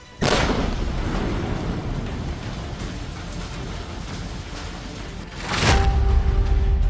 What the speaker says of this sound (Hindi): इसके बाद घर को कंट्रोल एक्सप्लोजन की मदद से उड़ा दिया गया।